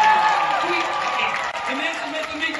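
An audience at a fan day event for a Dutch reality game show applauds, a steady wash of clapping and crowd noise that fades slightly toward the end.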